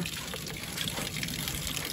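Water is poured in during home cooking, a close, continuous gushing stream of liquid that stays steady and fairly loud from start to finish.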